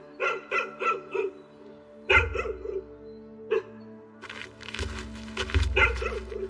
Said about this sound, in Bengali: তাকিয়ে দেখি একটা কালো কুকুর ডেকে চলেছে।